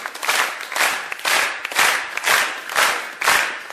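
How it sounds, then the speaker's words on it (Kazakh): Guests at a wedding celebration clap together in a strong, rhythmic beat, about two claps per second, loud and close. "Әзіне бір қол шапалақлар болсын."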